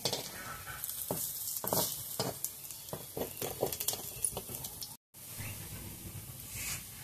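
Coriander leaf fritters sizzle in hot oil in a karahi, a close, crackling fry with scattered pops and light utensil taps, briefly cut once, with no talking.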